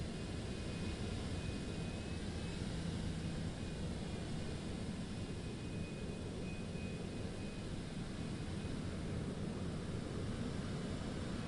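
An airliner lands in Microsoft Flight Simulator 2024, a Citation X or 737 Max on PS5. It gives a steady, faint broadband engine roar and hiss that continues without change and has no talk over it.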